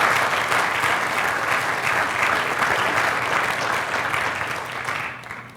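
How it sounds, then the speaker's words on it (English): Steady, full audience applause at a city State of the City event honoring safety professionals, dense even clapping throughout that tapers off at the end. "giving the safety professionals a round of applause"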